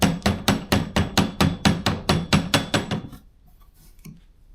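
A hammer gives steady, evenly spaced taps as glued shaker cabinet door joints are driven home, about a dozen loud, close knocks in quick rhythm, then quiet with one last faint tap.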